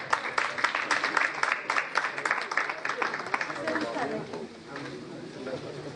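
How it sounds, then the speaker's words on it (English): An audience applauds two Chanakya Law University teams that reached the quarterfinals, dense steady clapping under crowd chatter that thins slightly near the end. "Big applause for them"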